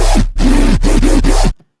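Dubstep growl synth from Sytrus with the operator ratio set to 2: a loud, gritty, buzzing bass tone in four rapid pulsing bursts with wobbling pitch sweeps, ending abruptly into silence.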